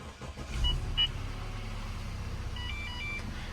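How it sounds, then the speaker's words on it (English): A high-mileage Audi A4 B8.5 with a check engine light starts and settles into a low, steady rumble inside the cabin, with a few short electronic chimes beeping over the engine. "let me start it up for you, and so you can kind of hear what a problematic car sounds like"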